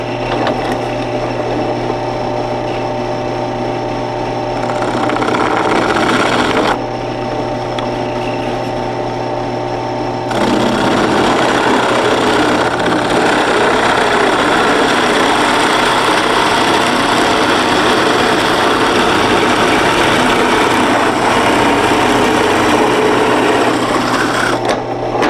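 A power tool drills down through the middle of a clamped piece of wood, running as a steady loud mechanical whir and grind for about 25 seconds, with a couple of shifts in load.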